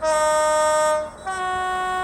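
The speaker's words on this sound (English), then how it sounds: "when I play the horn, when the loco's driving in this direction" DCC sound horn of an Accurascale TPE Mk5 model train sounds a two-tone blast, the first high note held about a second before dropping to a lower sustained tone, loud and clear.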